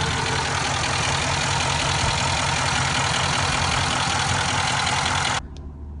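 Nissan Titan pickup truck engine idling close by, a steady loud rumble with dense mid and low tones that runs unbroken for over five seconds, then cuts off abruptly to near quiet, no voices.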